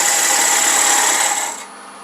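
A lathe tool cuts into a spinning wooden loom pulley, giving a steady, loud rasping whir that holds for about a second and a half before easing off into a quieter hum.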